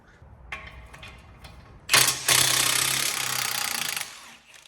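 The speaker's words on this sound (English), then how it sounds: "These are 21mm. And I'm just using a Milwaukee gun" Loud, close burst of a Milwaukee impact gun with a wobble socket rattling on 21mm brake caliper carrier bolts at the front hub of a Vauxhall Insignia, starting after quieter clicks and hammering steadily for about two seconds.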